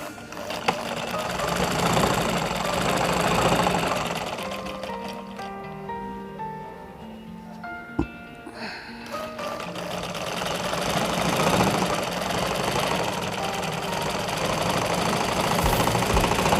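A sewing machine stitching a simple tunic whirs in fast mechanical runs, loud and close, easing into a quieter pause in the middle with a single sharp knock before the rattling stitching picks up again.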